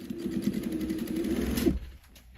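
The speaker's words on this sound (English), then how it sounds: "sew 1/4 of an inch allowance on all 4 sides that have cut" Sewing machine running a quarter-inch seam on a fabric tote bag, a steady fast needle chatter for about two seconds that slows and stops, close and alone.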